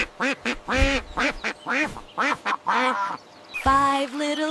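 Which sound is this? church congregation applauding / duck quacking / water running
duck quacking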